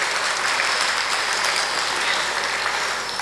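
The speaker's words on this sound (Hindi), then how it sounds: "मैं ये चाहता हूँ कि बहुत मोहब्बत से एक बार और इनके लिए एक ज़ोरदार तालियां बजा दें।" Loud, dense applause from a mushaira audience in Muscat, a steady wall of clapping that holds at full strength throughout without a break.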